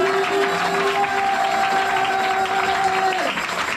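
A church congregation applauds and cheers in a dense, continuous wash of clapping with a sustained tone running beneath it, ending with a slight dip in loudness.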